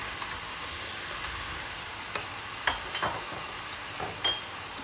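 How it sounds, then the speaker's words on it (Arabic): Meat sautéing in a pan for an akkawi (oxtail) tagine gives a steady soft sizzle with a few sharp clinks and stirring scrapes near the end. "دلوقتي هي بتتشوح"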